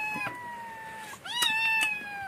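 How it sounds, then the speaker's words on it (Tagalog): Hungry cats meow loudly and insistently in a home kitchen, several drawn-out cries one after another, close to the microphone. "Naku, ang ingay talaga ng mga pusang to."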